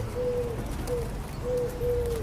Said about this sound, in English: Behold the noble pigeon.